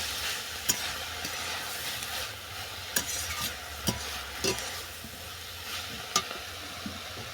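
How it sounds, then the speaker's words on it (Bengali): Greens and eggplant get stirred in a frying pan, giving a continuous close sizzle broken by repeated sharp scraping knocks of the spatula every second or so, with no voices. "শাক আর বেগুনটাকে নেড়ে ছেড়ে দিয়ে দিচ্ছি"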